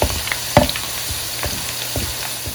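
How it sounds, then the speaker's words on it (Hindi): A medium-sized onion browns in a pan for chicken biryani, giving a steady, close sizzle and frying hiss with a few stirring scrapes and clinks and no talk. "मैं एक मीडियम साइज़ का प्याज ब्राउन कर रही हूँ।"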